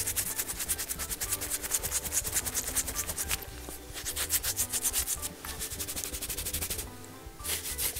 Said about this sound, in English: Let's scrub your body.